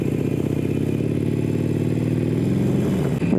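A Harley-Davidson motorcycle engine runs at a steady idle-to-rev rumble, close and loud, its low throbbing pulses continuing unbroken for a few seconds before a brief dip near the end; no talking over it.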